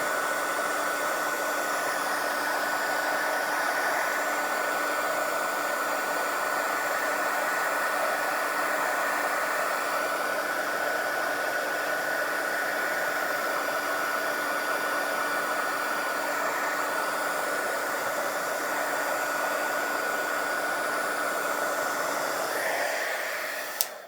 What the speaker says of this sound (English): I'm just going to use my hot gun to get rid of the black.